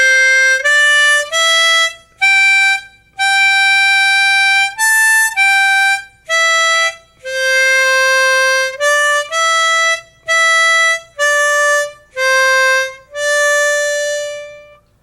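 A harmonica plays single notes with narrowed lips, a slow sequence of clean separate tones of varying length with short gaps between them, close and unaccompanied.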